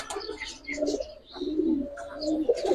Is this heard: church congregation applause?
no